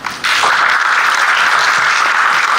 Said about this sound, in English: one more great applause to our all 6 presenters